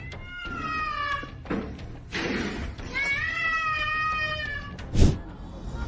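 Cat meowing several times, drawn-out whiny calls close by, with a soft thud midway and low background noise.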